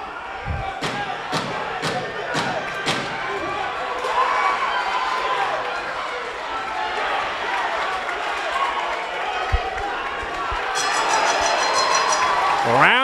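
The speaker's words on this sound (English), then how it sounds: "This crowd is making themselves the rhythm section of the music that is this fight." A boxing crowd at a New England junior middleweight title fight, cheering and clapping rhythmically, with sharp thuds early on and a commentator talking over the steady roar of voices.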